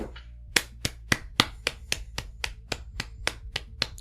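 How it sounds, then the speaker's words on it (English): Close, steady clapping, probably one person, for interpreters on a podcast: about a dozen sharp, evenly spaced claps at a brisk, regular rhythm with nothing else heard. "just a big round of applause for all the interpreters out there"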